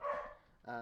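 Dogs bark twice in quick succession, faint and somewhat distant indoors, each bark short and sharp.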